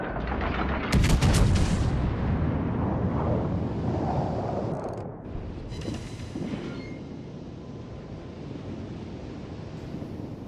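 Battleship Dunkerque firing its main guns in the naval game World of Warships: Legends, a sharp loud broadside near the start followed by a long rumbling roar of sea and engine noise that slowly fades.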